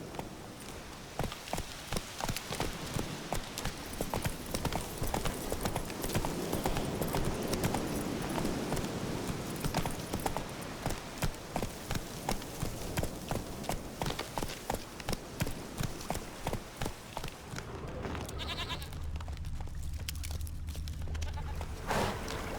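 Roach, a horse in The Witcher 3, trots along with steady, rhythmic hoof clip-clops throughout, loud and close, with a faint bleat of sheep or goats nearby and the hoofbeats easing near the end.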